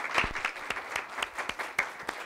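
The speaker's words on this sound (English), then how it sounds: "Let's give our panelists a round of applause." Audience applause for a panel at a Texas public education forum, a modest room's worth of hands clapping, fairly sparse with distinct individual claps standing out, fading slightly toward the end.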